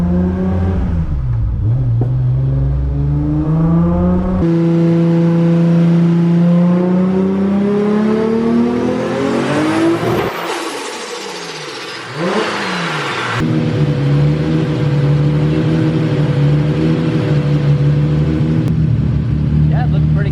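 A Toyota Supra engine revs loudly and close, rising and falling through repeated climbs in pitch, dropping briefly before settling into a steady high drone, with voices over it.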